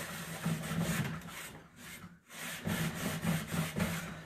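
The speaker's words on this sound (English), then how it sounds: "I'm rubbing pretty aggressively, and this is very fresh paint." Clear wax is rubbed hard with a cloth onto freshly painted wooden furniture, a close, continuous scrubbing rasp in back-and-forth strokes with a short pause midway.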